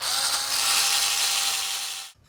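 A drill boring a shallow divot for an anti-rotation tab on a model train control module, a loud, steady, close whine for about two seconds that stops abruptly.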